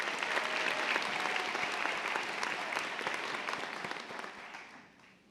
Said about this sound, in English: Let's give her a round of applause for her award.